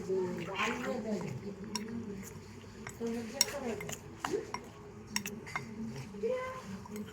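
Yogurt and semolina being mixed in a bowl, with a spoon scraping, clinking and stirring against the dish in scattered knocks over a low background, fairly quiet and close.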